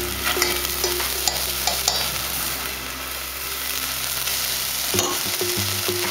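Beef medallions sizzle steadily in a hot pan with oil, a continuous frying hiss broken by occasional scrapes and clinks of stirring, close and fairly loud with no talking.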